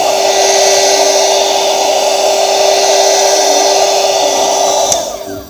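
A heat gun warms an iPhone to open it, giving a loud steady close blowing whine with a fixed tone that cuts off abruptly near the end.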